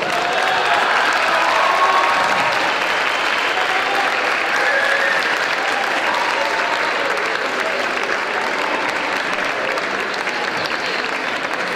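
A crowd at a folk dance performance gives strong, sustained applause for a young men's folklore group, a loud, even wash of clapping with some cheering that holds steady from start to finish.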